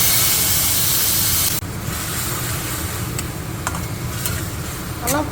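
Panch phoron spices and a green chili sizzle in hot fish-frying oil, a loud steady hiss that drops suddenly partway through, followed by light crackles and stirring scrapes.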